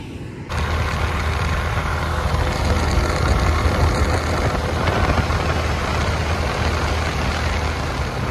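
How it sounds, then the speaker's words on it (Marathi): A Hero Xstream 125 motorbike engine catches and settles into a steady, fairly loud idle that runs unbroken after a brief quiet start. "चला आता चालू करू आपण आपली गाडी"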